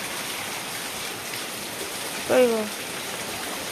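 Steady rain falls outside as a soft, even hiss throughout, and a brief voice calls out over it partway through.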